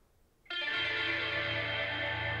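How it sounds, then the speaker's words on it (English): A distorted electric guitar in a song mix enters abruptly with a thick, sustained, effects-laden chord. It rings out loud and steady over a low held bass tone. "And if you can hear that distorted guitar here."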